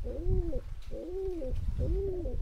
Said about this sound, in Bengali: কবুতরগুলো ভালোভাবে দেখেন কীরকম ডাকাডাকি করতেছে